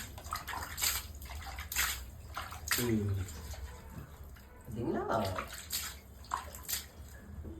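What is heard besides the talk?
anchovies being put into water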